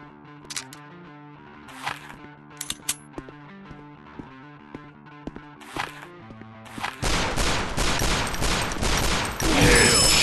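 Sharp, isolated gunshots ring out in a police counter-terrorist first-person shooter video game, about a dozen irregular cracks over quiet game music, followed by a dense, sustained burst of loud gunfire in the final few seconds.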